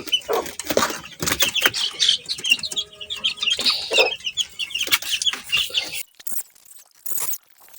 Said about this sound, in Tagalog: ayan na sila mga manok sa kanilang maliit na brooder